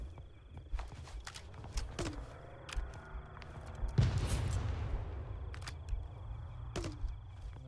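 Artillery explosions from a fire mission in ArmA 3, a deep boom near the middle that rumbles away, with scattered sharper gunshots before and after, all at a distance and fairly quiet.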